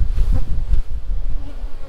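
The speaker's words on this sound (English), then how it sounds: "I'll just go ahead and shake the bees into the box." Honey bees being shaken off a frame into a shaker box give a loud, dense buzz with low thumps of handling close by.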